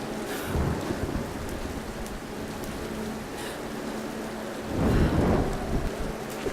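Thunder from a lightning strike in the Tomb Raider video game rolls over steady rain, swelling into a louder crack and rumble about two-thirds of the way through.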